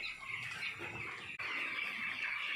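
A dense crowd of young broiler chickens in a poultry shed makes a steady, soft clucking and chirping murmur with light rustling throughout, and no voices.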